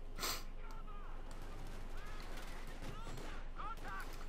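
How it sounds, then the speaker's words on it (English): A .50 caliber machine gun fires in the Company of Heroes 2 wartime strategy game, with scattered gunshot bursts and battle noise layered over a steady, dense background. "now brought out a 50 caliber machine gun"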